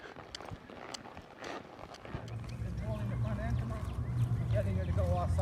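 A horse trots in an arena while being ridden in a sidepull hackamore; its rhythmic hoofbeats are soft and partly buried under a rider's talking.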